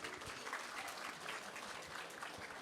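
Audience applause at the Miss Teen Chinatown Scholarship and Charity Gala, a steady dense wash of clapping from a crowd that holds evenly for the whole stretch without letting up.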